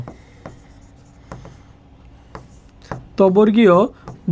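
Handwriting during a live Bengali-language class for nursing admission preparation: a few soft, scattered pen strokes on paper, followed by a brief burst of a voice speaking near the end.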